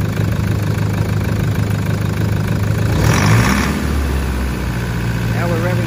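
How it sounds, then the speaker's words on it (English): A car engine runs steadily at a raised idle, then briefly rises in pitch as it revs above idle before settling back, a continuous close engine drone with some faint background sounds. "Now we're revving up"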